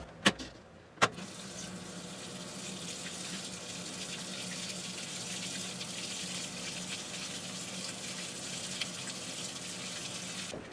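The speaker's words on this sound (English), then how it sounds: "I'm gonna run the water here" Tap water gushes steadily into a sink after a couple of sharp clicks from the fixture, a continuous, fairly close rush with no talking.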